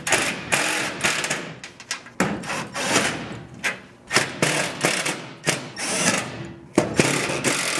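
A power driver fitted with a T30 Torx bit runs small screws into a Ford Raptor, sounding as a series of short, close, loud whirring bursts split by thumps and brief pauses.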